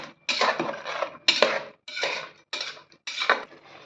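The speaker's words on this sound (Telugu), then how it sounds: "ఇలాగా మష్రూమ్ని కలుపుకుంటూ ఫ్రై చేసుకోవాలి." Marinated mushrooms stirred and fried in a pan, with a series of five separate scraping, sizzling bursts of utensil against metal, each lasting about half a second, close and fairly loud with short pauses between them.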